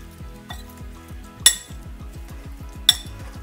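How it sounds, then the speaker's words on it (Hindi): A spoon mixes garlic-ginger paste with oil in a bowl, making a quick, regular run of soft scraping taps. Two sharper metallic clinks ring out against the rim. "अब उसे मैं अच्छी तरह मिक्स कर लूंगी।"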